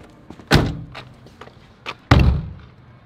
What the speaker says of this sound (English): And then I shut the door.